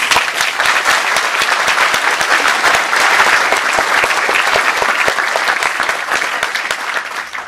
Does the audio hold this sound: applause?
yes